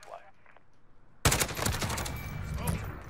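Rapid automatic fire from a Grau 5.56 rifle in Modern Warfare bursts in loudly after a quiet stretch and continues as a dense rattle, with a voice in the background.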